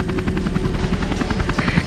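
Nishimura's helicopter idles outside in the game Tomb Raider Legend, a loud, steady rotor chop with a rhythmic thudding pulse over a continuous engine drone.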